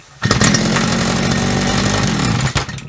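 A TRESZER TVR8 petrol brush cutter runs after repair of a loose intake pipe: a loud, close, raspy two-stroke engine snarl starts abruptly and holds steady for a couple of seconds before cutting out.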